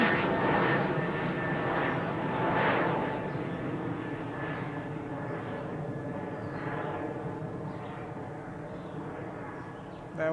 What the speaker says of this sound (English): That was WestJet 155 heading to Calgary.